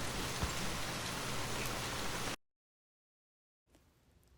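Steady rain falls in a dense, even hiss for a couple of seconds, then cuts to silence before a fainter patter of rain returns.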